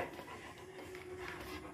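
A dog pants quietly in rapid, rhythmic breaths, close by, under a faint steady background hum.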